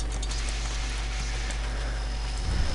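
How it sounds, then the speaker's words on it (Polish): Steady rain in a video game patters across the whole clip, a dense hiss with a faint low rumble beneath, and a soft thump near the end. "pada deszcz teraz"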